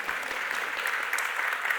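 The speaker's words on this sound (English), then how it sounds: "please applaud her question" At a Live Talks Los Angeles conversation between America Ferrera and Anjelah Johnson, the audience applauds a question with thick, even clapping that stays level for the whole stretch.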